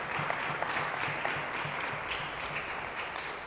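A church congregation applauds during a sermon, producing a dense, even wash of many hands clapping together that holds steady throughout, with no voices standing out.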